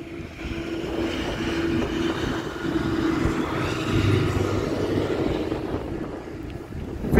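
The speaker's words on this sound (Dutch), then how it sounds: "Komt weer een trekker voorbij." A tractor drives past outside, a steady low engine rumble with a droning tone that builds and fades as it goes by, mixed with wind buffeting the microphone; no one speaks.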